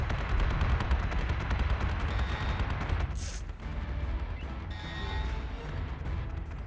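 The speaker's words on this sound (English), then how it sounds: "The Galactica might as well start firing its guided missiles, though." Guided missiles fire from the Galactica in the space combat game Battlestar Galactica Deadlock, a dense, continuous roar of rapid launches and blasts that stays loud throughout, with a brief sharp hiss near the middle.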